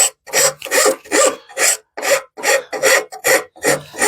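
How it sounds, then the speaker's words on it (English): A wood rasp files a wooden axe handle in steady back-and-forth strokes, about ten rough scraping passes in a regular rhythm, close and loud with no talking. "the rasp is nice because it goes, you pull back and forth and you keep pushing the whole time, and it cuts going both directions"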